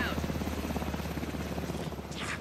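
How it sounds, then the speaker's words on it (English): A helicopter from the video game Alan Wake 2 approaches with steady, rapid rotor thumping that stays loud and close throughout, with a faint voice briefly underneath. "Chopper's coming in hot."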